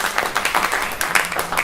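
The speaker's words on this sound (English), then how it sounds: "we support each other with a little applause" A live audience claps together at a business evening event, a steady, dense patter of many hands sustained throughout at moderate loudness with no voices over it.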